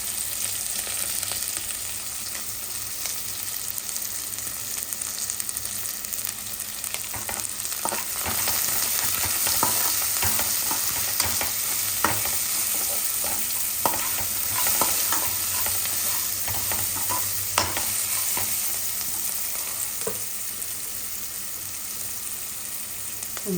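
Onions fry in a pan with a steady, even sizzle while a utensil stirs them in a long run of soft scrapes and light taps, close and continuous with no speech.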